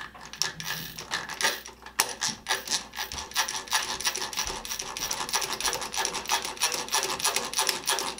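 A Yankee No. 1530A hand drill is cranked in ratchet mode, producing a close, continuous stream of quick rasping clicks and gear chatter with a sharp knock near the start.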